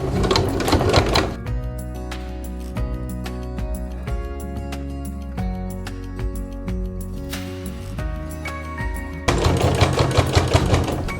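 A sewing machine running a regular quarter-inch stitch on bias binding gives a steady rapid mechanical clatter, loud and close, with a busier stretch at the start and near the end.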